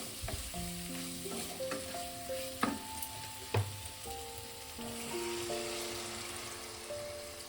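Tangra fish curry with taro sizzling steadily in the pan as water goes in, a constant frying hiss with a few faint clinks under soft background music.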